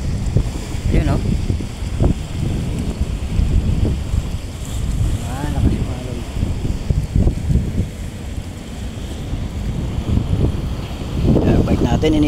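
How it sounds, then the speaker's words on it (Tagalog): Strong waves breaking on a shore in heavy wind: a continuous roar of surf with rolling surges and wind buffeting the microphone, loud and close, with a voice briefly audible. "Malakas yung alon."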